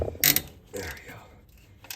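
Hand ratchet clicking in short bursts as it loosens the serpentine belt tensioner on a 2010 third-generation Subaru Forester, a few close, fairly quiet clicks and creaks with pauses between.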